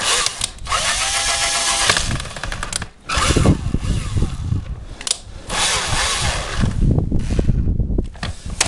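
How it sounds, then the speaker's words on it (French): Power tool screwing a bolt into its seat on a wringer bucket under repair, loud whirring bursts starting and stopping with short pauses between, close up. "ce boulon là, on va bien le mettre ici dans son logement. On met bien le doigt et on va venir visser le tout"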